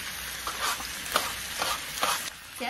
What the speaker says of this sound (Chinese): 煎这真不能急啊，小火慢煎。